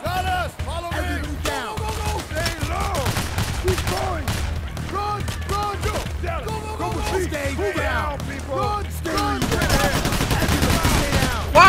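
Gunfire rattles in the heist shooter Payday: The Heist, with dense, continuous bursts from several weapons and shouting voices mixed in throughout.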